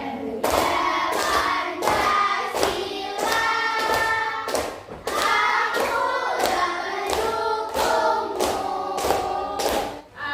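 Children sing the Garuda Pancasila song together while clapping hands in a regular beat, sharp claps punctuating the melodic group voices at close range.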